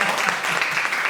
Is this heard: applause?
yes